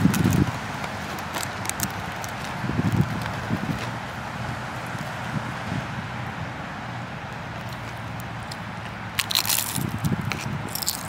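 Bites and crunches of fried mojarra fish eaten close up, a few crisp chewing bursts spread across a quiet background with no talk.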